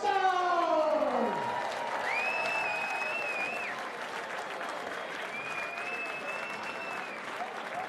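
A crowd at a darts championship applauds the master of ceremonies with steady, dense clapping throughout, lightly mixed with cheering, while a voice opens briefly over the top.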